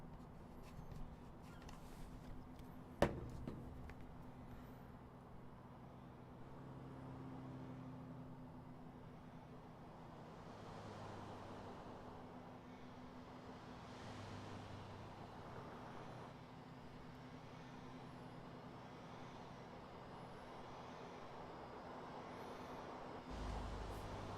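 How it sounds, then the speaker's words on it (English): Steady city street traffic in Grand Theft Auto IV, a continuous low vehicle rumble with passing cars and a truck, one sharp knock near the start, no talk. "Authentic New York traffic."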